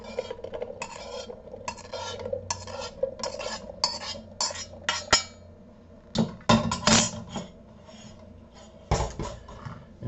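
Drained chickpeas go into a container for hummus, making a run of close, irregular scraping and clattering bursts against a hard surface, some sharp clinks standing out, with no talking.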